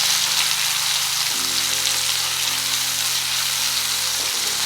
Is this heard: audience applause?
no